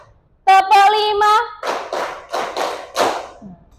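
Children in a classroom clap their hands on a count, about five distinct claps in an even rhythm, each a short burst. A sung or chanted voice leads just before them.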